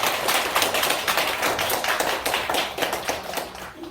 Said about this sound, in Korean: 큰 격려의 박수를 한번 보내주시면 좋겠습니다.